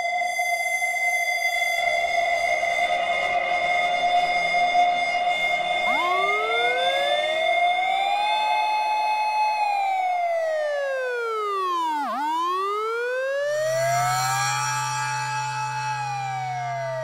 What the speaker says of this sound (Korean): 누군가가 신고한 것인지 순찰차가 오는 사이렌 소리가 들려오면서